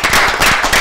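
Brief, loud burst of dense audience applause at an Italian community event, sharp overlapping claps packed closely together with no voices over them.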